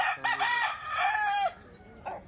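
A bullstag gamecock crows close by, one loud drawn-out call lasting over a second, followed by a brief softer squawk.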